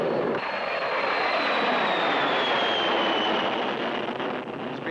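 Airliner jet engines at full takeoff power, a loud constant roar with a rising whine that holds steady from start to finish, with no talk over it.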